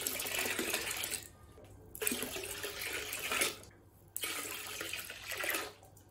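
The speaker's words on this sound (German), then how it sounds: "ich nehme da einfach einen Messbecher, Wasser aus dem Wasserhahn und kippe das damit rein" Tap water tipped from a measuring cup into beer wort, heard as three separate gushing pours, each splashing for about a second and a half, with short quiet gaps between them and no talking.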